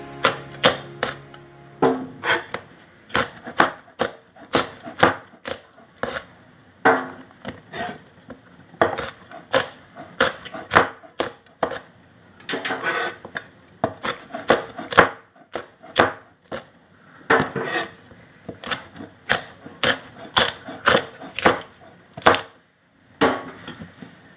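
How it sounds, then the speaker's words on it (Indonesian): A knife chops green curly chili peppers on a cutting board in a home kitchen, giving sharp, fast, uneven knocks in quick bursts that run steadily, close and alone. "Ya, sudah selesai saya memotong bumbu-bumbunya."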